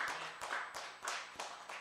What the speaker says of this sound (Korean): 우리 예수님 앞에 감사와 영광의 박수를 올려드립니다